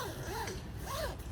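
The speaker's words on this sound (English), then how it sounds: "Like anything, just getting that zipper started is the key point there." A zipper on an awning storage bag is pulled in two quick rasping strokes, close up, over steady background noise.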